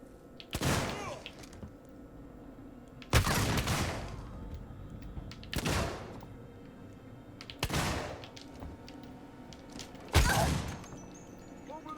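Five heavy, separate gunshot blasts in a gunfight in Alien: Isolation, each loud and booming, spaced a couple of seconds apart over a low, quiet ambient hum.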